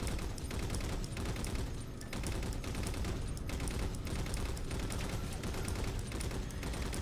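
Rapid turret burst fire in the Halo 4 video game, a dense continuous barrage of gunshots with steady loud intensity throughout, no talking.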